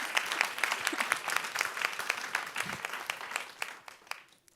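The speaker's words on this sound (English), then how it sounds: "So, big round of applause." Audience applause at a talk on exhibition making and museum collections: a dense, steady wash of many hands clapping that thins and fades out near the end.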